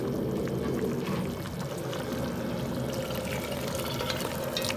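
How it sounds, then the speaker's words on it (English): Boiling water pours steadily into a pot of curry goat for several seconds, a continuous splashing gurgle close by with no voices. "I'll add a bit more boiling water as well."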